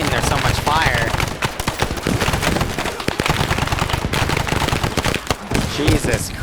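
Heavy sustained gunfire in an SOG Vietnam rescue scenario of a downed Huey crew, dense overlapping shots and rapid bursts filling the whole stretch, loud and chaotic.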